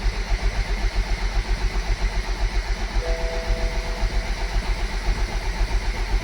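A BMW Z4 E89 with a newly installed engine runs up close at a steady, rhythmic idle, its even throb pulsing on without pause and no talk over it.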